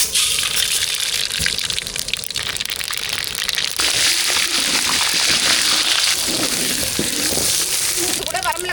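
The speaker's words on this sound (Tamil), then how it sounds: "சாம்பார் தாளிக்கிறதுக்கு எண்ணெய் சூடாகிடுச்சு கடுகு சேர்த்துக்கலாம்" Mustard seeds sizzle in hot oil as a tempering for sambar is prepared, a loud, steady crackling hiss that runs without pause for the whole stretch.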